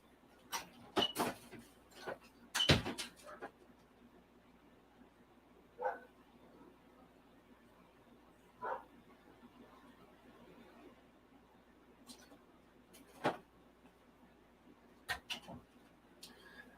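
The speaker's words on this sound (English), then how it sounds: "there was some major dog action going on because we had visitors" A dog barks at visitors arriving at the door, in scattered bursts of sharp barks and yips with quiet gaps between them, heard at a moderate distance and fairly faint.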